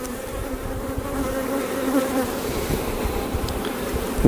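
Honey bees in a Demaree-manipulated hive busy building comb fill the air with a steady, close, droning buzz that holds evenly throughout, with no voices.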